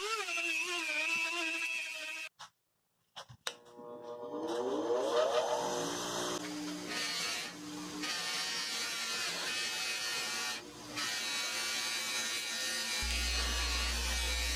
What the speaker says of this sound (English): use the Dremel tool to get it much finer, and then I use sandpaper and just smooth it out